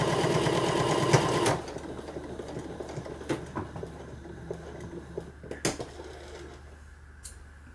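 A domestic sewing machine stitching a fabric make-up bag, a loud whirring burst at first, then quieter intermittent clicks and taps as the stitching slows and stops.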